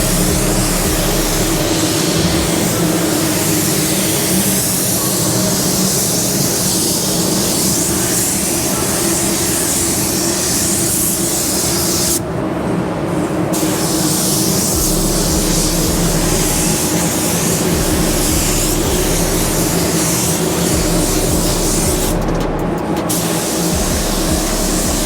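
Harbor Freight Black Widow spray gun laying down a candy paint coat, a loud continuous airy hiss that runs unbroken, with two brief pauses where the trigger is released.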